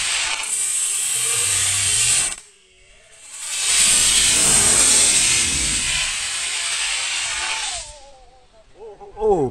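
3D printed model rocket launching, a loud close rushing hiss of motor thrust that cuts out briefly then roars again for several seconds before fading, with voices at the end.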